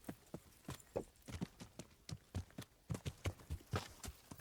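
Horse hooves clip-clopping on the ground in the video game Kingdom Come, a steady rhythmic run of close, crisp hoofbeats heard alone without talk.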